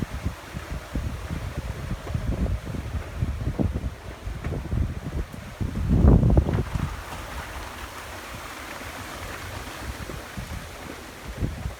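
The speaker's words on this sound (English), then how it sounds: "We're getting decent wind gusts though." Strong gusty wind in Port Saint Lucie, Florida, roars and buffets the microphone in uneven blasts, swelling into a louder surge midway before easing back to a steady rush; no talk.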